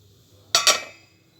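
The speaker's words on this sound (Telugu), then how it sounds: "మూత పెట్టుకుందామా." A metal lid is set onto a pan of frying bonda: two quick, close clinks in quick succession that ring briefly and fade over a quiet background.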